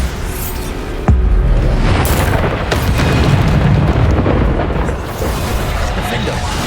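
A Bombarda spell from the Hogwarts Legacy video game detonates with a heavy booming blast, followed by a sustained roaring rumble and further bursts of the game's combat noise.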